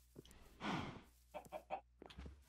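A chicken in the video game Minecraft clucks in a few short, scattered bursts, one longer squawk followed by quicker clucks, faint and close, with a low hum underneath and no talk.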